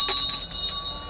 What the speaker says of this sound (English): subscribe and hit the notification bell right over here